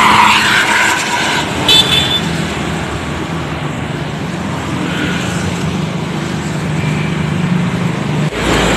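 Garuda Mas bus LP7157 overtaking behind a yellow box truck on a road near Purwodadi, heard as a steady, close roar of engine and tyre noise over continuous traffic, with no talking.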